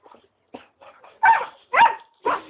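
A dog gives a series of short barks and yelps, rising from faint whimpering yips to louder close barks, each sharp and separated by brief pauses.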